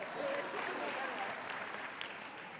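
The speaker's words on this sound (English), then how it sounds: "Yes, clap your hands for yourselves." Conference audience applauding themselves at a ministerial and executive forum, a broad wash of many hands clapping steadily with some crowd murmur mixed in.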